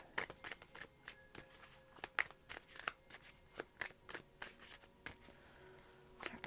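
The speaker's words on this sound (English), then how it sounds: "One more shuffle." A deck of tarot cards being shuffled by hand, a rapid run of crisp riffling bursts and slaps close up, irregular and fairly quiet, with no voice.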